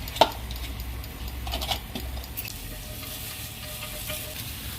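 Garlic, chive and onion sweating gently in annatto oil in a pan, a soft steady sizzle with a few stirring scrapes and clinks, continuous and fairly quiet with no talk.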